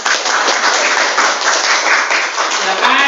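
A classroom audience applauds together in a dense, steady wash of clapping, loud and close, with a voice briefly audible near the end.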